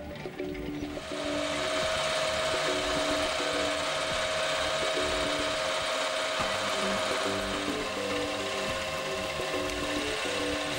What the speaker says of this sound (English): I turn the blank to the correct outside diameter and then drilled and bored the hole to the correct size.